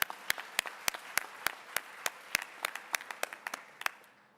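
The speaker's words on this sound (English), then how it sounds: "we can clap for that" A small audience at a tribute event claps sparsely, with distinct individual claps at an uneven rhythm rather than a dense ovation, fading out at the end.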